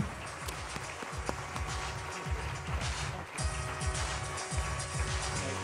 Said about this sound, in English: how about a large round of applause for this year's Henri Termeer Innovative Leadership Award winner, Dr. Jeffrey Leiden